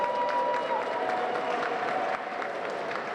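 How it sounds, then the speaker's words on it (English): An audience at a youth art month event applauds student artists with steady, dense clapping from a crowd that holds throughout, with a faint voice briefly mixed in. "Let's give them a round of applause."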